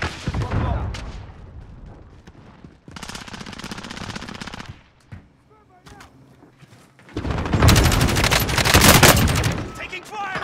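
Heavy automatic gunfire in Call of Duty Modern Warfare Warzone, long loud bursts of rapid shots separated by a brief lull with distant pops, near and intense, with a voice briefly in between.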